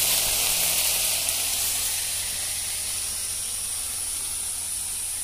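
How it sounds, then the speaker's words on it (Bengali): Potatoes frying in oil with chopped onion and green chilli give a steady, fairly loud hiss and sizzle that holds even and unbroken, with no talk over it. "আলু ভাজা করছি, পেঁয়াজ আর কাঁচা লঙ্কা কুচিয়ে দিয়েছি।"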